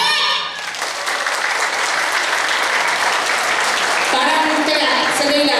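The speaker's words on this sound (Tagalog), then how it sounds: "Palakpak!" Applause from an audience at a school awards and recognition ceremony, sustained dense clapping that swells and holds steady, with voices and a brief call rising over the end.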